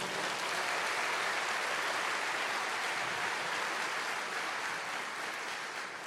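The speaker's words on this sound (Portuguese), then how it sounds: "você pode aplaudir o Senhor?" Church congregation applauding the Lord during a sermon, a steady, dense wash of clapping from a large crowd that holds evenly throughout and tapers slightly at the end.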